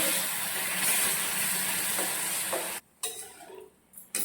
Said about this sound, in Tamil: அடுப்பு நம்ம எவ்வளோ ஸ்லிம்மில் இருக்கணுமோ அவ்வளோ ஸ்லிம்மில் வச்சுட்டு அப்படியே கிளறிட்டே இருங்க